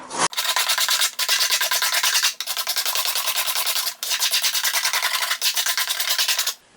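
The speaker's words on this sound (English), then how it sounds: "So right now I'm finishing up the inside by scraping it." Scraper working across the inside of an 1800s wooden violin back during repair: close, loud rasping strokes in five long even passes with brief pauses between them.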